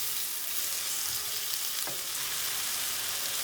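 Onion and tomatoes sizzle in a pan with an even, continuous frying hiss. There is one faint stir partway through, and no voices are heard.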